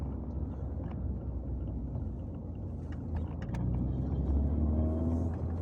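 A car engine idles steadily while warming up after repair work, a continuous low rumble that swells slightly louder in the final seconds, close by with no talk.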